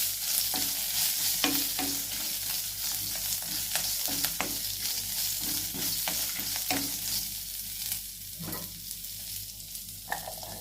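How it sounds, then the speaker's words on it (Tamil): Oil sizzles steadily in a pan while a spoon stirs and scrapes in repeated strokes, close and moderately loud, as chicken masala for a country-chicken curry is sautéed; no one speaks. "கொஞ்சம் எண்ணெய் விட்டு நல்லா வறுத்து வதக்கிக்கோங்க"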